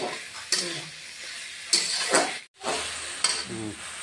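Spices and green chilli paste sizzle in a hot pan for a Bengali rui fish curry. A steady hiss is broken by a few sharp scraping stirs and a brief lull.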